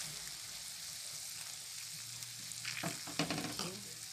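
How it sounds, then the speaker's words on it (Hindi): Too much oil in a small kadhai bubbles and spits hard while pickle spices are stirred, a faint steady hiss that breaks into louder crackling pops near the end, with no voices. "छोटा कढ़ाई हो गया और ज़्यादा तेल हो गया इसलिए बहुत जोर से खोलने लगा।"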